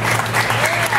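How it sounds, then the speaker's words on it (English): An audience at an awards gala claps steadily in a brief, dense burst of applause that fills a large hall. "Let's give a big, big hand of applause, please."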